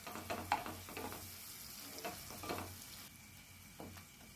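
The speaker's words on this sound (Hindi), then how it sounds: "एक चम्मच अदरक लहसुन का पेस्ट सम्मिलित करते हैं और कुछ क्षण इनको भूनते हैं।" Ginger garlic paste frying in a pan for a yogurt mutton curry, a soft steady sizzle with stirring scrapes and small pops, close and fairly quiet, no talking.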